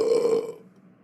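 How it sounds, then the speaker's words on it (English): A single loud, drawn-out burp in a classroom setting, close and dominant for about half a second before trailing off into quiet room noise. "you don't ever burp in my classroom"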